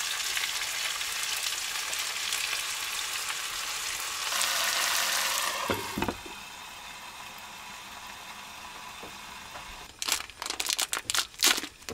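Food frying in a pan over a stove in an off-grid log cabin, a steady loud sizzle that surges for a moment, then drops to a quieter crackle before a burst of clattering stirring near the end.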